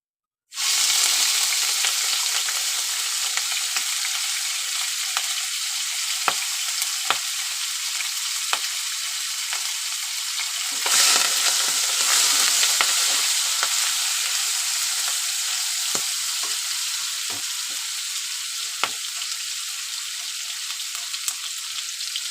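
Prawns dropped into a cumin tempering in hot oil, a loud sizzle that starts abruptly and hisses steadily, swelling briefly partway through, with faint ticks of stirring and no talk.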